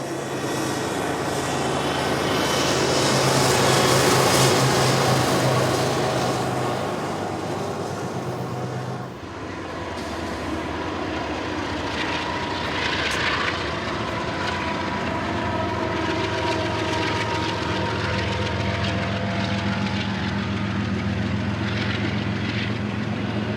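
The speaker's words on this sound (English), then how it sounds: "A pair of live helpers were shoving on the rear to assist the heavy westbound up and over Ash Hill" A heavy westbound freight train with helper locomotives pushing at the rear climbs a grade, steady engine drone and grinding of wagons, loud at first and then settling into a continuous roar.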